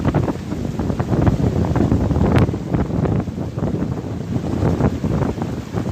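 Strong wind gusting beside a river in rainy weather, buffeting the microphone with a loud, continuous roar that swells and eases without pause.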